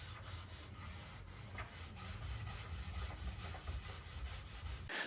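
Cloth wiping excess finish off a turned wooden piece, a soft steady rubbing swish repeating in short strokes, quiet and close with no talk.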